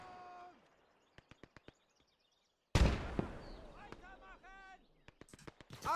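Grenade blast in the WWII strategy game Gates of Hell: a few sharp clicks, then a sudden loud explosion that rumbles and decays, followed by scattered gunfire and distant shouts from the battlefield.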